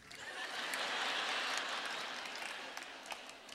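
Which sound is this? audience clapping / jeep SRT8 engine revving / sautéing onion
audience clapping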